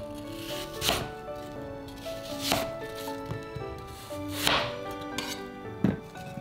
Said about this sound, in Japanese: リンゴは4つ割りにして芯を切り取り、皮をむいて4枚に切ります。